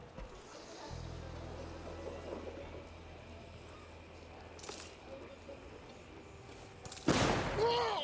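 Gunfire in the video game Deathloop crackles as scattered firecracker-like pops through a busy in-game background, ending with a loud, sharp burst near the close.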